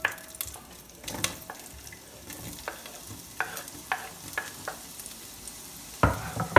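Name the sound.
carrot, onion and garlic stir-frying in olive oil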